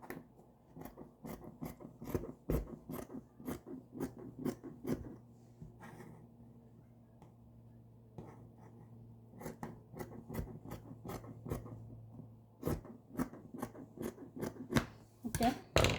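Scissors snip through skirt fabric in a steady run of crisp, close cuts, pausing briefly midway before the rapid snipping resumes and quickens at the end.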